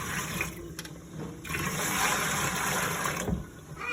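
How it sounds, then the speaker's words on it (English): Water from cooked pasta pours and drains into a sink, a steady rushing gush that swells and lasts several seconds, close by and with no talking. "now I'm gonna drain the pasta"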